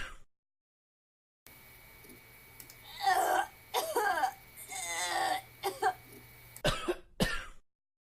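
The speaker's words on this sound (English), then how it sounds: "I can't stop coughing." A person in a fit of mold-induced coughing, several harsh, hacking bursts in quick clusters with throat clearing and strained, whimpering breaths between them, close and loud after a short silence.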